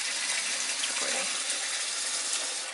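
Water from a tap runs for a puppy's bath as a loud, steady, close gushing hiss that continues without a break, with no clear talking.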